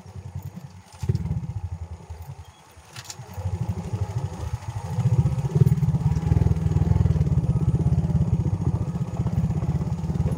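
An XRM motorcycle engine runs close by: a rapid putting idle drops briefly, then rises into a louder, steady pulsing throb that continues to the end, with no talk.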